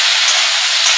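Bright, loud hissing sizzle as turmeric, cumin and coriander powders with salt are stirred in a hot pan, a continuous close-up spray of frying noise over one second.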